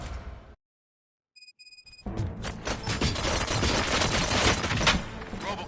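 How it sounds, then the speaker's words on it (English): Gunfire in the video game RoboCop: Rogue City, a dense burst of rapid shots and impacts after a short silence and a few electronic beeps, loud and continuous, with game voices mixed in. "Gunshots? What's going on?"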